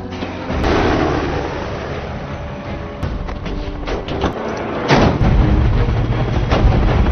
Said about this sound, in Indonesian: terjadi baku tembak yang cukup menegangkan